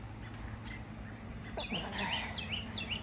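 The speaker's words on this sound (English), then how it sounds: "My filming's sucking because I'm getting distracted by the wild birds." Wild robins chirp in a garden, bright rising and falling whistled calls that begin midway and repeat over a low steady background hum.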